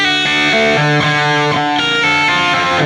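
A Marshall 1987X amplifier pushes out a heavily distorted electric guitar tone, loud and saturated with thick, sustained notes and chords changing in a steady riff, played alone without any talking.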